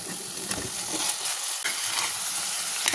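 Cauliflower florets, first soaked in hot water, fry in a pan with a steady hissing sizzle and a few soft scraping stirs across a short stretch.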